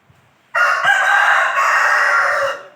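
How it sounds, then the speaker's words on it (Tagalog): A loud, close crow from a large rooster in Malico, Philippines bursts out after a short quiet moment and holds for about two seconds before cutting off. "Ang laki yung manok dito ah"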